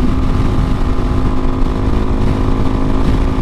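A Kawasaki KLX 400 motorcycle engine held at high RPM during a test ride, droning loud and steady from up close with a constant buzzing roar and wind rush, no talk.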